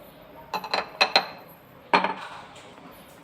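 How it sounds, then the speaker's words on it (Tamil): Almond, date and carrot juice with honey being stirred in a glass, a spoon clinking against the sides in a few quick bursts, with a pause before a final pair of taps. "நன்றாக கலக்கவும்."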